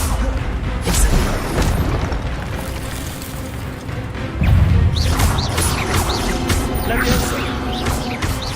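Incendio fire spell cast in the video game Hogwarts Legacy: loud booming, crashing bursts of magic recur across the stretch among other spell effects, with a heavy impact midway and no talk.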